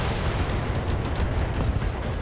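A mech's ammunition explodes in the Battletech video game, heard as a loud, sustained rumbling blast that fills the whole moment with dense roaring noise.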